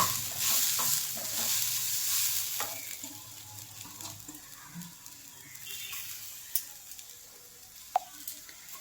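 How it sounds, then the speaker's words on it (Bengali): Dry-roasted dalia fries in ghee in a pan, giving a close, continuous sizzling hiss that is louder at first and then eases, broken by a few stirring scrapes and taps. "তারপরে আমি ঘিয়ের মধ্যে দিয়ে ভেজে নিচ্ছি"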